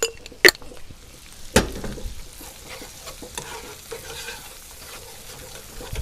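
Tomato paste frying in butter in a pan over a wood fire, with a soft steady sizzle, scraping stir strokes and two sharp utensil knocks against the pot early on.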